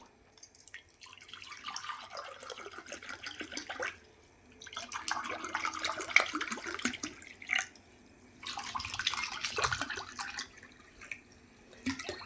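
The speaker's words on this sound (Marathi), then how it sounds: "आपण ग्लासामध्ये ना पाणी टाकून घेणार आहोत" Water pours into glasses, filling each about three-quarters full, in three separate bursts, each a trickling splash with a brief pause between, close and fairly quiet.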